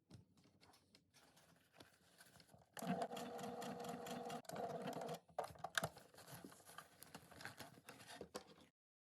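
A sewing machine zigzag stitches a buckle onto a strap for a detachable dog harness backpack, its needle chattering in fast steady bursts with brief pauses, close and fairly quiet.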